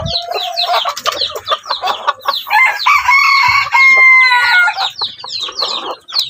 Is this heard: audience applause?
no